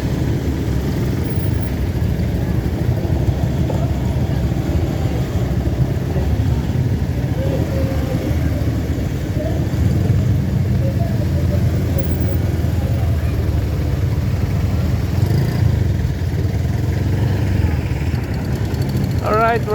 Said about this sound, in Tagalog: naipit tayo dito guys sa traffic dito sa market